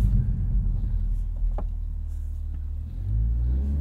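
A 2023 Toyota GR Supra 3.0 with a manual gearbox, in sport mode with rev matching on, gives a steady low engine rumble that dips briefly and then swells back up, heard from inside without talk.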